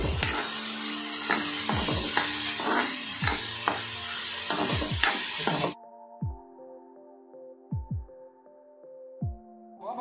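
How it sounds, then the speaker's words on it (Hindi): Capsicum and green chilies frying in a pan for street-style masala noodles, a bright sizzle with rhythmic stirring scrapes that stops abruptly, leaving softer scraping knocks in near quiet. "और साथ में अब इसमें डालेंगे अपनी कैप्सिकम और ग्रीन चिली, ये हल्के हल्के फ्राई हो जाएंगे"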